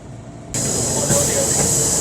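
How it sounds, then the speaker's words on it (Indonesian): Interior of a commuter train in Jakarta before dawn, around 5 a.m.: a steady loud rumble and hiss of the moving carriage fills the space, swelling after a short quieter opening, with a voice speaking over it. "Inilah suasana di kereta pagi hari jam 5."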